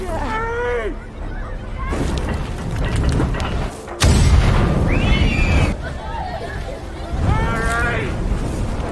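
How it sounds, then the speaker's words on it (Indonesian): Voices talk and squeal, then a sudden loud boom erupts midway and rumbles for a moment before the chatter resumes. "Tiba-tiba ada ledakan keras dari arah Mary yang membuat mereka semua pan"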